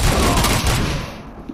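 Gunfire in a RoboCop video game, a dense loud burst of rapid shots and thuds that fades toward the end.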